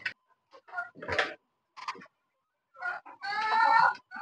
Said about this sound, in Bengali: সিল্কি প্রজাতির মুরগি, পাটেক্স সিল্কি।